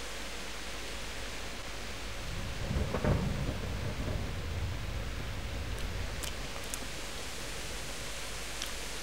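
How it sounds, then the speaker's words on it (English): Steady rain hiss in the video game Kingdom Come: Deliverance fills the scene while a low rumble of thunder rolls through, swelling briefly before fading back under the downpour. "The rain quality in this game is really awesome."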